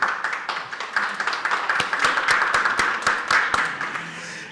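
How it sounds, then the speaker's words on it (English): Audience applause for panelists and guests closing a session at a privacy week conference, with dense, steady clapping and a few sharp individual claps standing out, sustained throughout at moderate level. "And may I have one round of applause for our panelists and guests?"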